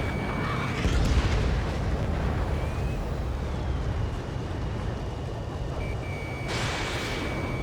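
Bomb explosions in Ace Combat 7 during a harbor strike by an F-15E Strike Eagle, a heavy sustained rumbling roar of blasts with steady jet noise and intermittent beeping tones.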